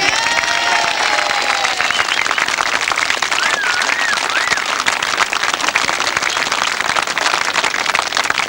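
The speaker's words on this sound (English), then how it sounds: "I'm sure we'll give them a big round of applause for Cann" Sustained crowd applause with some cheering at a 1992 British Masters grasstrack racing meeting, honouring the second-place finishers; steady and fairly loud throughout, with a public-address voice faintly over it.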